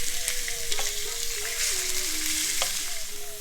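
Meat for Mersin-style tantuni fries on a hot sac griddle with a loud, continuous sizzle, broken by sharp scraping and stirring clicks and a low background hum.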